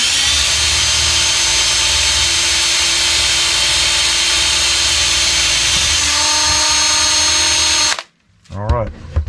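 A power drill bores a 1/16 inch pilot hole through a metal fishing spoon, a loud steady whine held for about eight seconds before stopping abruptly, then a voice speaks briefly.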